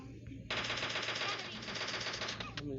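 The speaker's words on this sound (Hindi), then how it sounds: "फिर मैं यहाँ से आता हूँ तो बॉट एक फायर कर रहा होता है" Automatic gunfire from a bot in PUBG Mobile Lite, a rapid sustained burst lasting about two seconds, loud and close, over faint game background sound.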